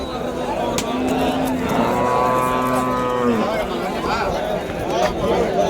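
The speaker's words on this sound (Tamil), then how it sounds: "பசு மாடுங்க, சென மாடுங்க." Cattle lowing at a busy livestock market in Vaniyambadi, with a clear drawn-out moo near the middle over a steady crowd murmur and people talking.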